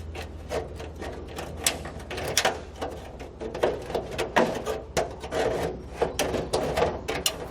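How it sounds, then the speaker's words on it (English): Metal snips trimming a marked section out of a heat shield on a 2017 Chevrolet while fitting a Curt trailer hitch, giving repeated raspy cutting crunches in an irregular rhythm, close and fairly quiet, with no talking. "We'll use a pair of snips to trim that."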